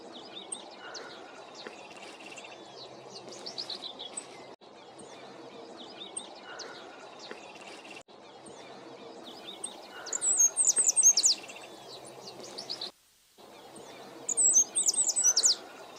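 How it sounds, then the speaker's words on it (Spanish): Several birds chirp and trill in high, quick bursts over a steady outdoor hush in trees along an embankment beside grazing fields, with the brightest calls clustering in short flurries near the end. "Los árboles que bordean el terraplén son el hogar de varias especies de pájaros."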